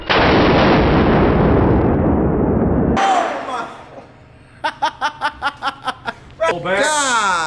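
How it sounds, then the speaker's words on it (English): A shotgun fires once with a loud, sharp blast that rings out for a few seconds. A burst of rapid chuckling and laughter follows, then a voice rises and falls. "That shotgun is something else, man."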